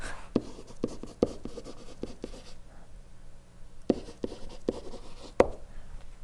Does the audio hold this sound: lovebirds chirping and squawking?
no